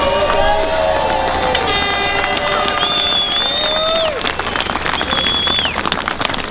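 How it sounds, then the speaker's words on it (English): A crowd at a farmer protest in London cheers and applauds, with horns tooting and sustained whistle-like tones above a dense, continuous roar of noise. "So another round of applause for my next Fisher there."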